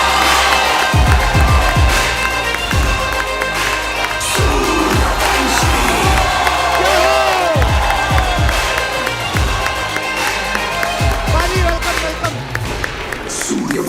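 A television comedy show studio audience cheers and applauds as actor Akshay Kumar is welcomed, with loud continuous clapping, whoops and shouting over lively background music.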